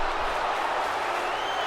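A wrestling arena crowd in WWE 2K19 cheering during a tag-team match, a steady, dense roar of mixed voices and applause that holds at an even level throughout the short stretch.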